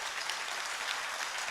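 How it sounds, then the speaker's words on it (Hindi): Audience applause at a student hostel gathering in Lalitpur, a steady dense wash of many hands clapping that holds level from start to finish, heard from within the hall. "बजा दो जोरदार तालियां"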